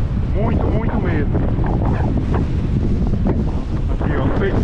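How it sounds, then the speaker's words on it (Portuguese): Strong wind roars and buffets the microphone continuously, a dense low rumble with faint voices and water sounds underneath. "Ventando demais da conta"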